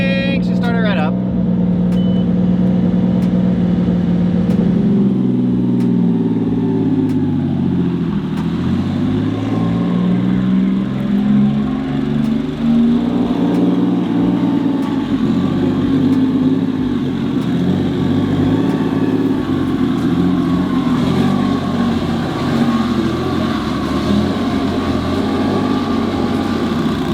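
A 2022+ Subaru WRX fitted with an ETS J-pipe exhaust starts up and settles into a steady, close, throaty idle rumble that runs unbroken throughout.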